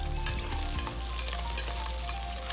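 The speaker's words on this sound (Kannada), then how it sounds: "ಮತ್ತು ಈಗ ಕರಿಬೇವಿನ ಸೊಪ್ಪನ್ನು ಕೂಡ ಹಾಕ್ಕೊಂಡು ಫ್ರೈ ಮಾಡ್ಕೊಳ್ಳೋಣ." Green chillies, byadgi chillies and curry leaves sizzling in hot oil for khara pongal, a loud, steady close-up crackle with a brief stirring scrape near the start.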